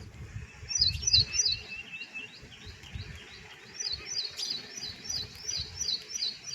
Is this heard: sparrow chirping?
yes